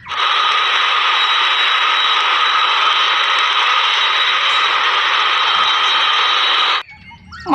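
Toy airplane producing a steady, loud electronic engine drone that holds evenly for about seven seconds, then cuts off abruptly, followed by brief rustling and a voice starting.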